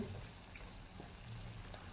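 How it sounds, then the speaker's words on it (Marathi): Water is poured from a grinder jar into a prawn masala in a pan, a faint, continuous trickling pour lasting a couple of seconds. "इथे मी वाटणाच्या भांड्यामध्ये थोडंसं पाणी घालून घेतलेलं आहे ते आता आपण यामध्ये घालून"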